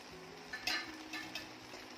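Cauliflower and potato sabzi cooking on an electric stove on low heat, with a soft sizzle and a few gentle stirring scrapes of a spoon in the pan, quiet and close.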